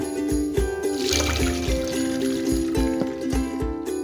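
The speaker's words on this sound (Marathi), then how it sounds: "वर आता डाळ ओतूया" Cooked dal being poured into a strainer over a pot, close wet pouring and trickling with repeated soft metallic clinks and thuds, fairly loud and with no voices.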